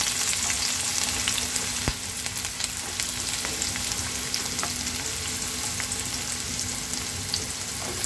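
Chopped onion frying in a pan with garlic and cumin for pithale, a dense continuous sizzle close by with occasional clinks, no talking.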